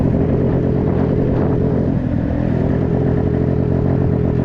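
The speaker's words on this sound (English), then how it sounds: "It's sputtering. That's the spark cutting in and out." A Honda Grom clone PMZ50 motorcycle engine runs at wide open throttle while climbing uphill at about 22 mph, its loud, steady, continuous roar faltering and sputtering as the spark cuts in and out.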